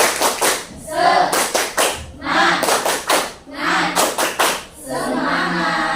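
A classroom of students performing a rhythmic spirit clap, tight bursts of unison hand claps in patterned groups with brief gaps, close and loud, with voices mixed in.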